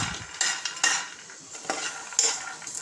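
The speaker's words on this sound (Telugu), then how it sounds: "ఇవి పల్లీలు వేయించుకుందాం, ఇవి కూడా వేయించుకుందాం" Peanuts dry-roasting in a pan without oil, stirred with a spoon: soft, close scraping and rattling strokes in uneven bursts, fairly quiet, with no talking.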